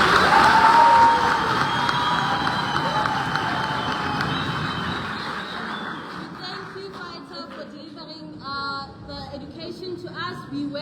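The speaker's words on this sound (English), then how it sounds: "Can we have a round of applause?" Crowd at a student political lecture applauds and cheers loudly, a dense roar of clapping and shouts that gradually thins out, with scattered voices and chatter taking over by the end.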